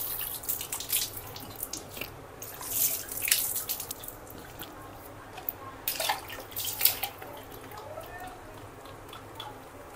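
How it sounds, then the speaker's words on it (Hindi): Tap water runs into a sink while someone washes their face. Irregular close splashes and drips sit over a soft, steady water flow. "तो मुंह धो लेते हैं।"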